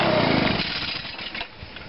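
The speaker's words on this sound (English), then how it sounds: "What a great leaf blower." A gas-powered leaf blower runs close by with a harsh engine whine that eases down slightly over two seconds, no voices present.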